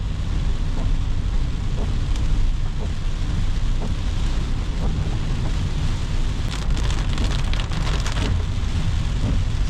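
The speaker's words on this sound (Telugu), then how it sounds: "ఎందుకంటే వర్షం సౌండ్ కూడా బాగుంటుంది" Heavy rain drums steadily on a car driving along a ghat road, a dense, loud, continuous wash with faint ticks of drops and no talking.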